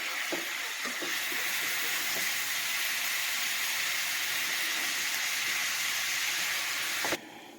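Water at a rolling boil in a pot for goulash gives off a steady, loud, hissing rush that holds evenly for several seconds, then cuts off abruptly near the end.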